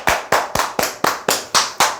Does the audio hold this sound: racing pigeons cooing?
no